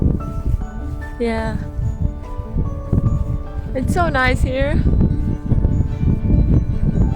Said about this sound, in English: But so windy